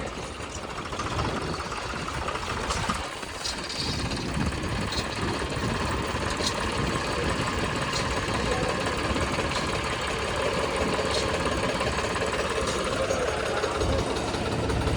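John Deere tractor engine, a 5405 or 5310 pulling a loaded cart on a hill, running steadily as a close, continuous mid-pitched diesel rumble with faint ticking on top for the whole stretch.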